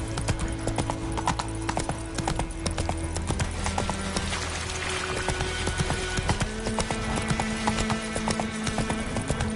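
Galloping hooves of Roach, the horse in The Witcher 3, pounding close and continuous in a quick rolling rhythm, with a few faint whinnies mixed in.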